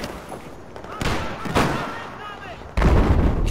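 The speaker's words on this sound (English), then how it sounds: "Getting shot at a lot here." Gunfire and explosions in the Battlefield 4 Siege of Shanghai conquest map, several sharp loud blasts and bursts of shooting separated by short gaps, with faint voices in the background.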